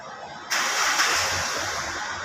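A vehicle engine starts with a sudden loud catch and then settles into a steady, close idle that holds to the end.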